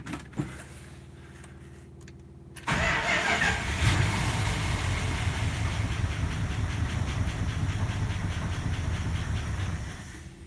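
A cold car engine, choke fully open, cranks briefly and then catches into a loud, steady idle that roars on close by without speech.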